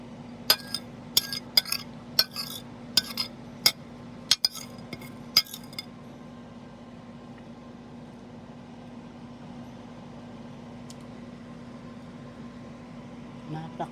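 A utensil taps and clinks against a plate while slicing sticky rice cake (kalamay with coconut strings), sounding as about a dozen sharp close clinks in the first few seconds and then a steady low hum of room noise.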